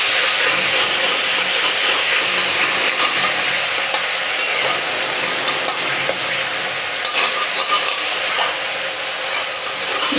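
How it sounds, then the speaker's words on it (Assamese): Spice paste with whole cumin and turmeric fries in a pan for a Labeo bata fish curry, a continuous close sizzle and hiss overlaid with repeated scraping strokes of stirring. "এইখিনি অকণমান সময় ভাজি ল'ম"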